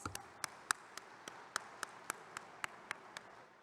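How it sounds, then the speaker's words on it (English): Sparse, steady hand claps at a WCOA 2022 conference session, about a dozen crisp, evenly spaced claps, faint and a little distant, with no talking over them. "Let's have a big round of applause"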